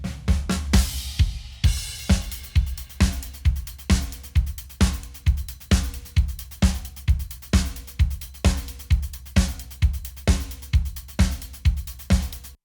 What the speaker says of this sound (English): And our drum together sounds like this.